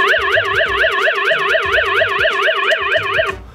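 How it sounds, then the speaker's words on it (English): A Xiaomi Mi Gateway home security unit sounds its default alarm, a loud, rapidly warbling electronic siren tone that cycles evenly for several seconds before cutting off abruptly. "This is what the default alarm sounds like."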